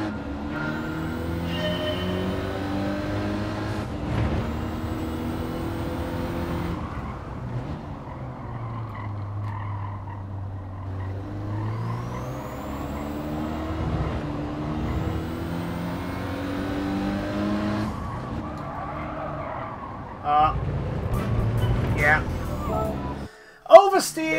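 A Renault Clio in Gran Turismo 7 laps Suzuka Circuit, its engine tone rising and falling through gear changes and revs, with a person talking over the car throughout.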